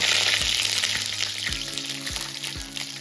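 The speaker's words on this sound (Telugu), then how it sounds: "ఇప్పుడు అదే నూనెలో ఒక స్పూన్ ఆవాలు వేసుకుందాం ఒక రెండు రెబ్బలు కరివేపాకు వేసుకుందాం" Mustard seeds and curry leaves crackle and sizzle in hot oil, a bright close hiss with several low thumps from the pan or spoon, fading slightly after the first second; nobody speaks.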